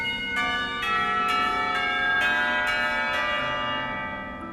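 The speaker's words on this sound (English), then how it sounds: "The lunch bell rings, and I curse the universe's poor sense of timing." Ringing school lunch bell from a visual novel game, a series of bright metallic strikes with long overlapping sustained tones, steady and loud throughout with no voices.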